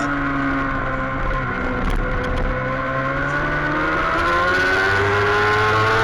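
Formula Femme race cars drone past on a circuit, their engines layered and overlapping as they rise and fall in pitch, loud and steady throughout with no voices.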